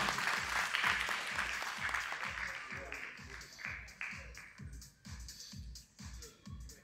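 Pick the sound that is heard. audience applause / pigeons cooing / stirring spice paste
audience applause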